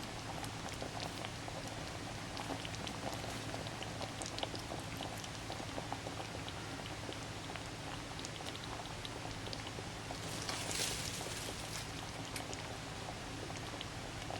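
Beef caldereta with green peas and olives simmering in a covered pot, a steady soft bubbling and hiss that stays quiet and even throughout.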